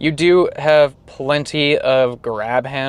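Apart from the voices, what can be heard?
No everyday noises stand out.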